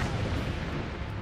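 An artillery cannon fires in the video game Forts, a dense, continuous booming rumble filling the whole short moment with no voices.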